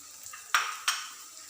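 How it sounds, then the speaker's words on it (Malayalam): Coriander powder frying in a pan for an egg roast masala is stirred, two short scraping sweeps of the spoon rising over a quiet, faint sizzle. "ഇനി ഈ മല്ലിപ്പൊടി ഇതിൽ കിടന്ന് നല്ല വറവാവണ വരെ നമ്മൾ ഇളക്കി കൊടുക്കണം"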